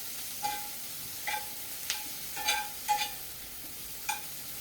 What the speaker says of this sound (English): Let me get to stirring up these. Sweat it up vegetables.